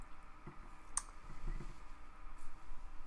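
Faint clicks of typing on a computer keyboard, a few scattered keystrokes in a quiet room with no talking.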